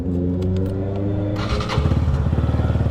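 An 18-wheeler truck rumbles past close by, a deep steady engine drone that swells into a louder pulsing throb partway through.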